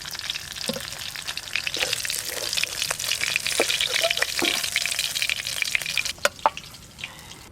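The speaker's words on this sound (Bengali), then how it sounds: "উল্টে পাল্টে হালকা করে ভেজে নিয়েছে।" Freshly caught pond fish fry lightly in an oil-filled pan, producing a continuous close sizzle and spatter, with a few clinks and knocks as the pieces are turned.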